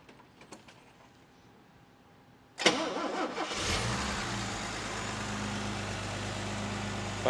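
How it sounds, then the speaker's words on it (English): A Mercedes Pagoda straight-six engine cranks briefly and catches, then settles into a steady, smooth idle close by, following a few faint clicks and taps. "Let's go ahead and fire this up and show you how well it runs."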